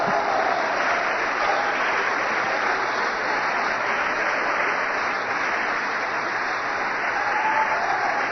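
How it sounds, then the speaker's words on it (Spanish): A church congregation applauds together in a steady, dense wash of clapping that holds evenly throughout, with no talk over it. "Le damos un aplauso al Señor,"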